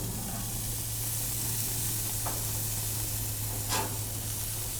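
Asparagus spears sizzling on a hot grill, a steady close hiss of frying with a couple of brief sharper spits, no talking over it.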